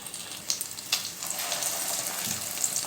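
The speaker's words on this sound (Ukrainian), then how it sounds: "Смажимо з обох сторін до золотистої кірочки." Fish patties of Baltic herring sizzle and crackle steadily in hot oil in a pan, with a few sharp pops and spits rising above the constant frying hiss.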